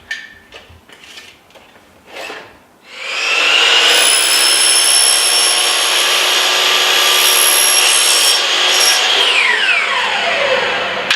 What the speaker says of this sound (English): Now we're going to cut the headpiece.